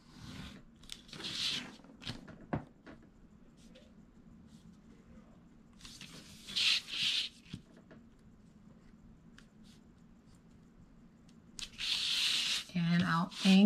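Scissors cut an opening in a Dollar Tree paper gift bag, giving short crisp snipping and crinkling bursts separated by quiet pauses, close up.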